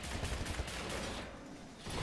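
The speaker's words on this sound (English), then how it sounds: "Man, this gun tears." Rapid gunfire from a weapon in Wolfenstein: The New Order crackles in a quick burst of shots, fairly faint overall, then thins out briefly before picking up again.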